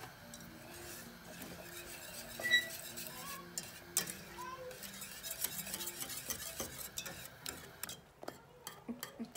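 A spoon stirs thickening lasagna cream sauce in a pot on the stove, with soft repeated scraping and clinks against the metal over a faint simmering bubble, close and quiet, with no talk.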